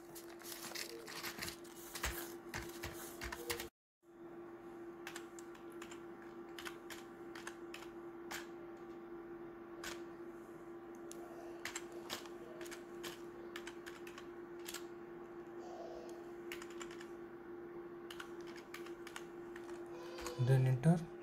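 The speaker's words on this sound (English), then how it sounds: "Now again type in the terminal." Commands are typed on a computer keyboard at a Linux terminal, a steady run of quick close key clicks over a faint constant hum, broken by a brief silent gap.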